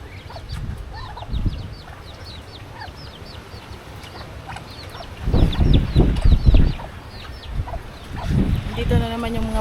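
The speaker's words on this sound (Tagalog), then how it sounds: "Dito na naman yung mga pato." Ducks on a rural Filipino farm quack and chatter in a dense flock, with louder bursts of calls and rustling midway, along with background bird noise and people talking.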